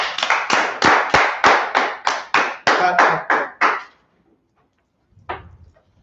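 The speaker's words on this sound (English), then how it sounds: "Clap it up for the class" A small audience claps for a class in about a dozen sharp, evenly spaced bursts that stop abruptly, followed by a brief pause and one faint final clap.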